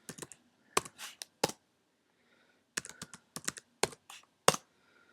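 Keys clatter as a password is entered on a computer keyboard, short bursts of close, crisp taps with brief pauses between groups, with no talking.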